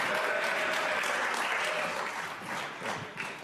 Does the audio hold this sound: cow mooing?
no